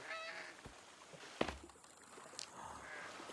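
Duck-like honks and quacks from ducks in the video game The Forest sound sporadically over a busy background, with a couple of sharp gunshot cracks standing out.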